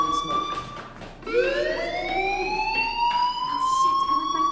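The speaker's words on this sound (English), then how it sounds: "Hey, do you hear that fire alarm?" A fire alarm wails in the Life is Strange video game, a rising electronic siren tone that sounds steadily at moderate volume beneath a low background of game ambience.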